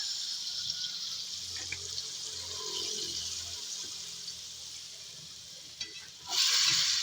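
Pork adobo with soy sauce sizzles steadily in a pan while a utensil stirs it, giving occasional soft scrapes and clinks, with a brief burst of running water near the end; no one speaks.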